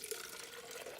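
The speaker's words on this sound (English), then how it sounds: "save the stop bath by pouring it back into the container" Used film stop bath pours from a developing tank back into its storage container: a steady, close liquid stream running unbroken for the whole second, with no talk.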